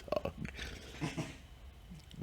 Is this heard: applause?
no